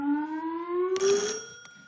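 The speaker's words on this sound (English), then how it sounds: "Fingers on buzzers, teams." A quiz show buzzer on a panel game gives a steady rising electronic tone, then a sharp, brighter second buzz cuts in and fades, loud and close with no talking.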